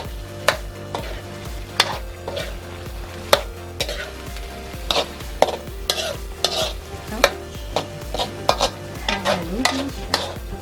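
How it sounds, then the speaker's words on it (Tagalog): A spatula scrapes and stirs pineapple beef in a pan, with repeated clacking strokes over a low sizzle of frying, close and steady throughout. "Haluin siya."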